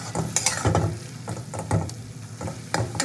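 Turmeric is stirred into greens frying in a pan, giving irregular scraping strokes of a spatula over a soft, continuous sizzle, close and fairly loud.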